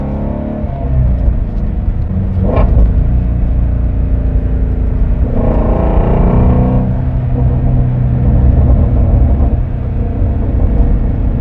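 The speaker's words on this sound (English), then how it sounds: "Sounds like Zeus's car with the thunder." A Shelby GT350 engine rumbles deeply and steadily nearby, rising briefly in a couple of revving surges before settling back to a throaty drone.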